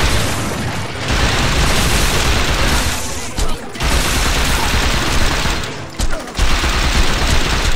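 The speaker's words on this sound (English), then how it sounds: "Dude, watch where you're shooting at, though." Heavy bursts of gunfire in the Saints Row 2 video game, loud and nearly continuous with two brief pauses, over a dense roar of shots and booms.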